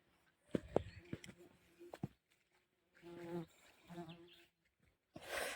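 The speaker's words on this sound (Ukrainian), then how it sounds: "Комарів прямо стає." Faint mosquitoes buzz near the microphone in short passes in a forest, with a quiet voice speaking intermittently and rustling between.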